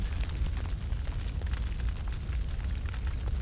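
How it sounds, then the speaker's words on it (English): A large fire roars in a scene from the TV show House of the Dragon, giving a steady, deep rumbling whoosh with crackling bursts throughout, heard on its own with no talking. "Man, that's one hell of a fire."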